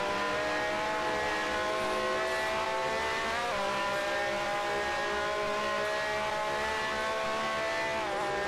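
A race car engine in the Grand Prix Legends racing game drones steadily at high revs, its pitch dipping briefly and then holding again, at moderate loudness throughout with no talk.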